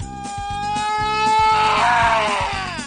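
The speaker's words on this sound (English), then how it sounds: "Which of these excruciatingly painful screams is an example of the Doppler effect?" Screams of pain from the You Don't Know Jack trivia game, a single drawn-out cry that rises and then falls in pitch as if running past, with a steady pulsing beat underneath.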